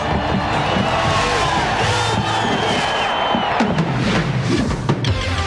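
A sellout crowd of 78,000 roars at Arrowhead Stadium in Kansas City for a Raiders–Chiefs rivalry game, with a dense, continuous wall of cheering, shouts and whoops, rising bursts near the end.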